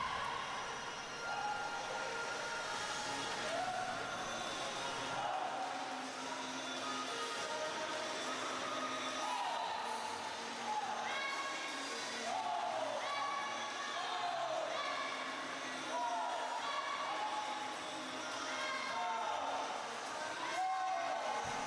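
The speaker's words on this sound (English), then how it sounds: "Crowd is cheering people on, cheering their swimmers on, trying to give them some strength to finish strong." A crowd cheers swimmers on at a long course summer swim meet, with a steady wash of indoor voices and repeated rising shouts and whistles pulsing throughout.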